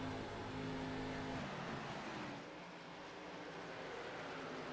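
ARCA Series race cars lapping Kentucky Speedway, a dense, steady engine roar with a rising whine that eases partway through, loud and sustained, with no voices over it.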